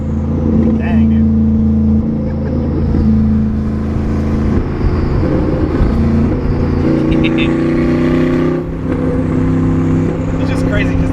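Porsche Panamera Turbo with side exhaust revving and pulling through gears, a loud continuous engine roar with rising and falling pitch heard from inside the cabin, with people talking over it.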